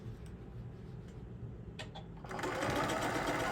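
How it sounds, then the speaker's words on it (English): A sewing machine back tacks over a tote bag seam, stitching in a steady rapid run that grows louder and denser partway through, with a brief pause in the middle. "I'm going to back tack over that seam just because it's a seam."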